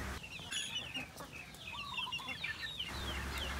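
Free-range chickens cluck and chatter softly in a farmyard, several short calls overlapping across a faint, steady background hum, with no voices.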